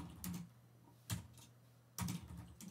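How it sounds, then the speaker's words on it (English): Keys on a computer keyboard tapped in a few short bursts while code is entered, light close clicks separated by brief pauses, with no talking. "So let's type this."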